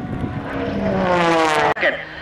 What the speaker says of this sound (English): Pulls that airplane straight back up.